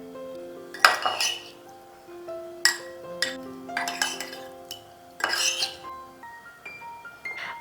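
Paneer being tossed with oil and spices in a metal bowl, with a series of bright clinks and ringing taps from a utensil against the bowl, irregular and close, ringing tones lingering between strikes.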